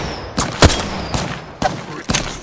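Several loud, sharp gunshots from Apex Legends combat, spaced out in uneven bursts over a steady game background, with no talking.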